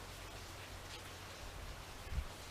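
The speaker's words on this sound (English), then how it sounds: "Man, it's raining." Steady rain falls outdoors in a quiet, low-level wash of noise, with a brief soft thump near the end.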